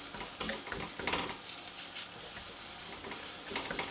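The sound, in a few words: paratha sizzling on a hot tawa griddle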